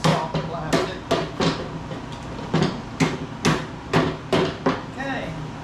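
Sharp, irregular hammer blows drive casters into a soft plastic rolling tool tray, a dozen or so knocks in close succession, close by and fairly loud.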